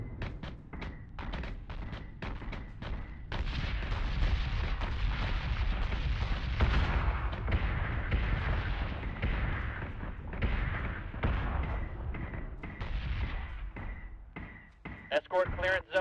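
Starship guns in Battlestar Galactica Deadlock fire on a target, first as rapid evenly spaced shots, then a dense sustained roar of cannon fire with booming impacts, under a voice speaking, ending in a few scattered shots.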